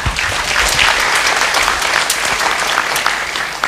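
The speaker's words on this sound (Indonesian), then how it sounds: "Wah, kita beri tepuk tangan." Loud audience applause for a student body president at an evening gathering, dense and continuous with a few sharper claps standing out, sustained throughout without talk.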